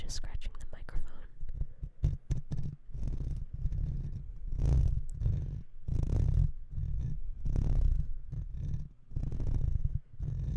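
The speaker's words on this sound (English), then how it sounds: "here's like me just scratching the microphone" Fingers rub and scratch across a ridged microphone close up in rhythmic bursts, a low rumbling scrape like a purr, pausing briefly between strokes.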